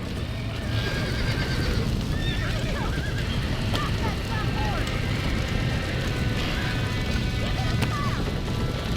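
Horses whinny repeatedly in Red Dead Redemption on PS5, sharp neighs rising over a loud, constant rumble of hooves and commotion, with shouting voices mixed in.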